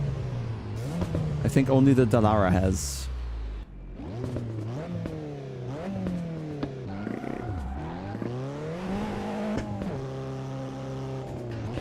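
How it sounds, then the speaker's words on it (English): A race car in the Assetto Corsa EVO racing game revs hard through repeated gear changes, its exhaust note rising and falling with small high-pitched pops, while someone talks over it. "It has a few different exhaust notes now compared to other cars, like these high-pitched small pops."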